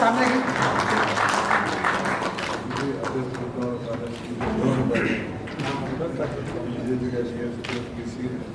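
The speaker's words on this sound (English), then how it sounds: "A warm applause." Applause from an awards ceremony audience, a dense sustained patter of clapping running steadily throughout, with a murmur of voices mixed in.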